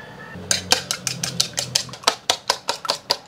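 Rapid, rhythmic clinking of a utensil beating eggs in a bowl, about a dozen sharp strokes in quick succession, close and loud.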